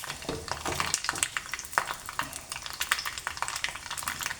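Ground horse gram paste goes into a pan of frying mustard seeds, and a steady close sizzle and crackle follows, with small scraping stir sounds scattered through it and no talking.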